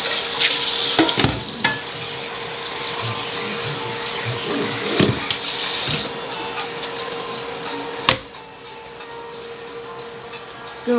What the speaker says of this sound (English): It's time to empty the pasta into the strainer.